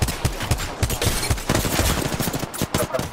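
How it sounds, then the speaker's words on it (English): Rapid automatic gunfire in the video game Apex Legends, a dense stream of loud, close shots with a few brief pauses and bursts overlapping. "Where am I getting shot from"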